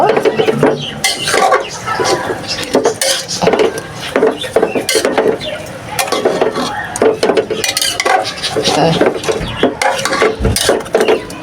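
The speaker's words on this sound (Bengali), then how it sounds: "অল্প তেলের পরিমাণটা দিয়ে ব্যাস এটাকে নাড়াচাড়া দিয়ে দেব" Beef being stirred in a little oil in a pan, cooked Peshawari style: continuous scraping and clattering of a utensil against the pan over a light sizzle, loud and close, with busy irregular strokes throughout.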